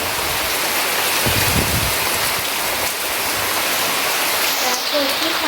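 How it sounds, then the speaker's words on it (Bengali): Heavy rain pours down in a steady, dense hiss that stays loud and unbroken throughout. "দেখো কত বৃষ্টি ফাইনালি বৃষ্টিটা যে হচ্ছে"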